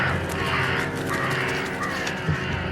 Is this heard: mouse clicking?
no